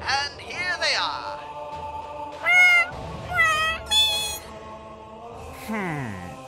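Cat-like Felinids from a Warhammer 40k comic dub let out several drawn-out, rising and falling meows in bursts, loud and close, probably voiced by a person imitating a cat.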